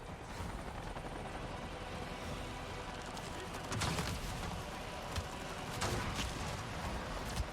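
A helicopter in the video game Avatar Frontiers of Pandora drones steadily at moderate distance under a dense wash of game ambience, with a couple of brief sharp impacts and faint voices.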